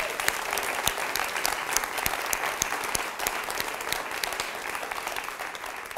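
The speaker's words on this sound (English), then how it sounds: "Can we get another round of applause for all these amazing social enterprises?" An audience at a social enterprise pitch event claps in sustained, dense applause, steady and fairly loud throughout with many sharp individual claps standing out.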